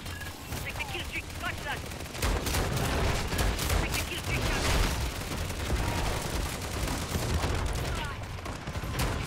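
A deployed sentry gun firing in Modern Warfare Zombies, rapid bursts of automatic gunfire mixed with other weapons, dense and continuous with voices talking over it.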